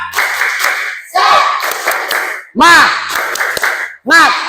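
A group of scouts performs a rhythmic spirit clap, loud close bursts of synchronized clapping with short pauses between, mixed with shouted voices chanting along.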